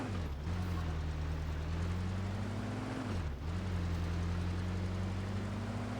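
A car in the Car Simulator 2 driving game during a brake test, its steady engine drone holding close and loud, then briefly dipping a little past the midpoint before droning on.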